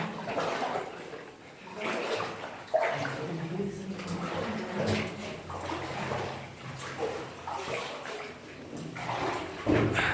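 Someone wades through deep water inside a mine tunnel, making repeated sloshing and splashing that comes and goes with each step, with a voice talking intermittently over it.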